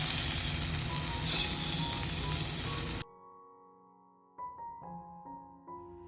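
Water poured into a hot pan of lentils and mango curry (parippu manga curry) makes a loud, steady hissing sizzle for about three seconds, then cuts off, leaving soft background music tones.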